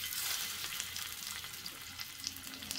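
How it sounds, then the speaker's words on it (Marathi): Soya kabab cutlets shallow fry in oil in a pan over a low-to-medium gas flame, giving a faint, steady crackling sizzle with tiny pops throughout. "आता हे आपण शॅलो फ्राय करून घेणार आहोत."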